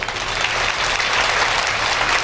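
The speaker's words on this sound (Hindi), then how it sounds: "खुद के पुण्य के लिए तालियां बजाइए।" Steady applause from an audience at a Brahma Kumaris stress-relief camp in Munger, Bihar, a dense, even wash of clapping that holds at the same loudness throughout, with no voices over it.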